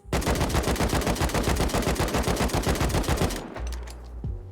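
Rapid automatic gunfire in the game Rust rattles out as a fast, steady string of loud shots for about three seconds, then stops, leaving a low hum and a single metallic clunk.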